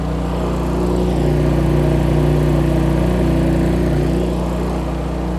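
Portable generators powering an HMI light drone loudly and steadily, with a deep engine hum and a mid-pitched tone that wavers slightly. The drone is close and runs unbroken, with no voices.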